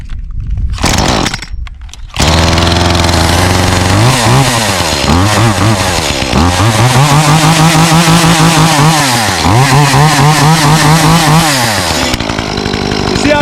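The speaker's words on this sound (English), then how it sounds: "You see how much louder this saw is compared to the other one." A cold gas chainsaw, a 2511 model, sputters briefly, then roars to life and revs loudly and repeatedly up and down, very close.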